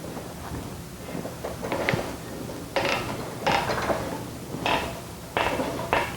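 A clamp tool is tightened on car exhaust tubing, giving a series of close metallic ratcheting clicks and creaks in repeated bursts over a faint background hum.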